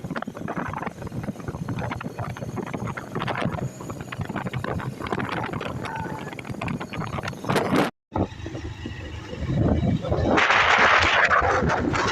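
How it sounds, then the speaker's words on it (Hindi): A tractor works a paddy field during ploughing, its steady engine drone rumbling throughout with people talking over it. The noise cuts out briefly partway through, then returns louder and rougher. "ये देखो अभी इसमें सब देखो ट्रैक्टर भी चल रहा है, अभी जुताई हो रहा है"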